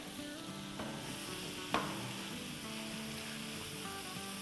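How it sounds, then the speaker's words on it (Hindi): Goat liver kaleji sizzles in a pan, cooked street style, as a faint steady hiss with a single sharp utensil knock partway through and no speech. "देखिए कैसे सिजल कर रही है, मज़ेदार सी"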